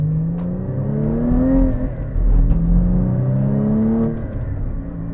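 A sports car's throaty exhaust revs loudly, its pitch rising and dipping repeatedly as the engine is blipped, with no talking.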